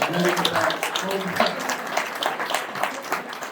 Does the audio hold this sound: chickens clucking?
no